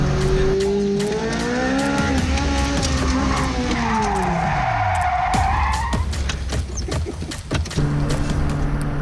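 A mid-engine car spins out on an autocross course after a throttle lift, its engine note rising and falling while tires squeal in long sweeping howls, then the engine settles back to a steady drone.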